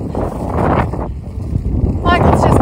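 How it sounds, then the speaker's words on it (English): Strong wind buffets the microphone on a narrowboat out on the water. The roar is loud and gusty throughout, and a voice can be heard under it. "Windy today."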